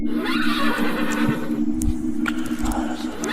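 A horse, turned into a zombie horse in an animated tale, neighs over a steady background drone, with faint hoof clip-clops.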